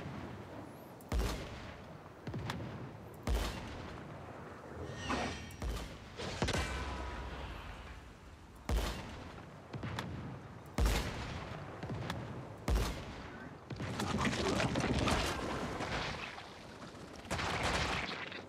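Gunfire in the video game Once Human: heavy single shots and short bursts crack out at irregular intervals, sometimes in quick pairs, over a steady background rumble of battle.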